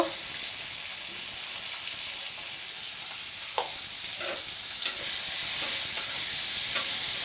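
Ground cumin, coriander, red chili powder and ginger being stir-fried in oil for Bengali sago khichuri, a soft steady sizzle with a few sharp spoon clinks and scrapes against the pan.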